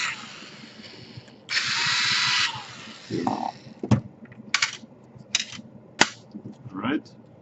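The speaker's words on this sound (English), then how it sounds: "here we take all the screws out" Screws are being removed from a Lenovo G470 laptop, heard as a sustained buzzing whir, likely a powered screwdriver, followed by scattered sharp clicks and small metallic taps, close and moderately quiet.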